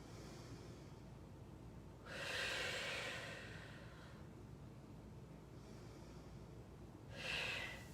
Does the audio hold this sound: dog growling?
no